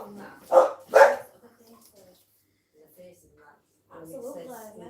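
Indoors in a private house, a dog gives two sharp, loud barks close by, followed by faint scattered sounds and then a soft, breathy voice murmuring at low level.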